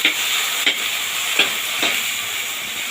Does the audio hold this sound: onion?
yes